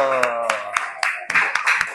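An audience in an Indonesian Islamic studies classroom claps hands, sharp regular claps a quarter second apart building into a denser round, with voices underneath.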